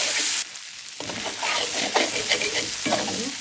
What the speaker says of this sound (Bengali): ভাজা ভাজা হয়ে গেল